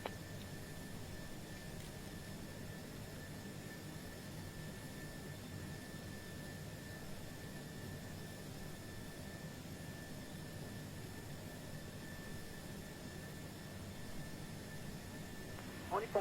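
An Airbus A330-300 jet on its takeoff roll at an airport gives off a steady, distant roar, fairly faint and unchanging for the whole stretch, with no talk over it.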